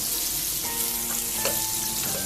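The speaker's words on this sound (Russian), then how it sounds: "Растапливаю масло." Butter sizzling softly as it melts in a hot thick-bottomed pot, a steady low crackle with occasional faint pops and no talking.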